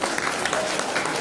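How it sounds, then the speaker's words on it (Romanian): Brief burst of audience applause at a local commemoration of the union of the Romanian principalities at the Călărași Municipal Museum, dense steady clapping with no voice on top. "merită aplauze"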